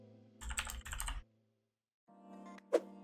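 Keys pressed on a computer keyboard for a Control F search shortcut, a short cluster of close, soft clicks followed by a quieter tap.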